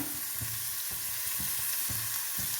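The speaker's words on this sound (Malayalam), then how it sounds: "ഇളക്കി കൊടുക്കാം." Shredded cabbage for a Kerala mezhukkupuratti sizzles loudly in a pan while a spatula stirs it in a regular rhythm, each stroke scraping about twice a second over the constant frying hiss.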